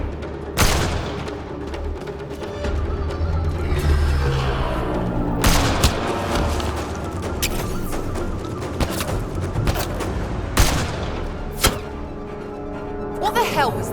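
Gunfire in the sci-fi game Mass Effect Andromeda during a fight with a sniper, loud scattered shots and booms cracking out repeatedly over battle noise, with voices shouting between the blasts.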